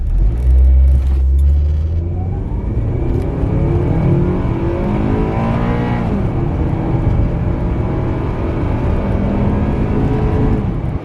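A Honda Accord Euro CL9 with an automatic transmission accelerates hard from 0 to 100, its engine rumbling loudly and rising in pitch through the gears, with brief drops at each shift, close and steady throughout.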